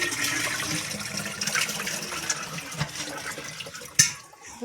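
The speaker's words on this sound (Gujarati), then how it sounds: "હાલો મિત્રો આપણે ગોળામાં રેડ દઈએ પાણી." Water pours into a clay water pot at home with a continuous gushing, splashing flow, fairly near, ending in a brief clunk and a quieter trickle.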